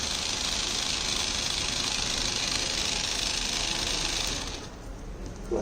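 A small DC motor runs steadily as the load in an electric-vehicle battery management system demo with charger monitoring, giving a continuous close whirring hum that drops slightly in level near the end.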